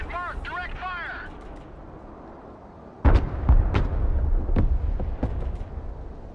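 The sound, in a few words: artillery direct fire in video game Broken Arrow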